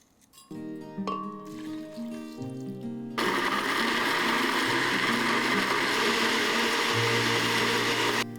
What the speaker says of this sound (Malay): Setengah sudu besar lada hitam dan kisar halus dengan sedikit air